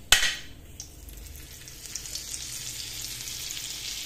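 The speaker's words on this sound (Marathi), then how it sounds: "यामध्ये आता थोडंसं बटर ॲड करू" Butter added to a pan of hot oil at the start of a butter chicken gravy gives a sharp burst of sizzle, then settles into a steady, close, bright frying hiss that builds slightly toward the end.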